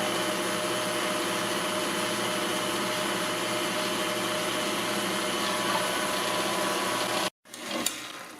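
Mixer whirring steadily as it blends Bob's Red Mill pizza crust dough, a loud, constant motor drone that cuts off abruptly near the end, followed by a brief clatter.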